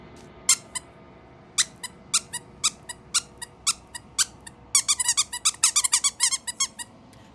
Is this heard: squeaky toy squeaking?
yes